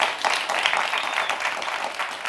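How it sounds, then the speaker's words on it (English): Audience applause for a panel at a One Young World event at COP26, a dense round of clapping from a crowd, steady and fairly close throughout. "So please give our panel a huge, huge round of applause."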